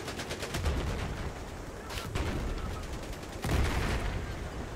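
Rapid gunfire in the video game Battlefield 4 comes in dense automatic bursts, loud and close, with fast repeating shots and heavy booming hits, and a voice talks under it.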